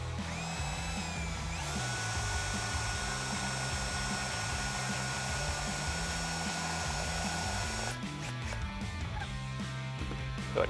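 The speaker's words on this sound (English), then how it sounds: "I'm gonna step it up to an 11/16 here" A power drill with a step bit whines steadily at a close, constant pitch as it bores an 11/16 hole while fender flares are fitted to a truck. Near the end the whine cuts off into a rougher burst of noise.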